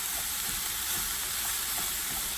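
Minced ginger stirred in a hot pan gives a steady, close sizzling hiss with soft scraping under it, continuous throughout.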